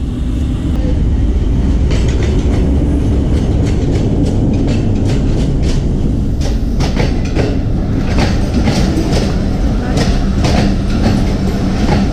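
A train pulls into Taxila railway station with continuous loud rumble and rhythmic clickety-clack of wheels over rail joints, close by and filling the whole stretch.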